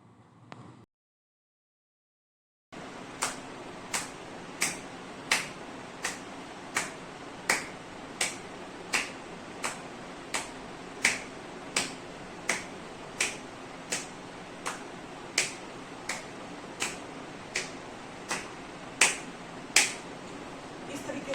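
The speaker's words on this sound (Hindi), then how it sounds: "तो जी इसमें भी आपने देखा इस तरीके से ही आवाज़ आनी चाहिए तालियों की" Palms clap together in a steady exercise rhythm, about two dozen sharp, evenly spaced claps close by after a brief silence, with a quiet background between them.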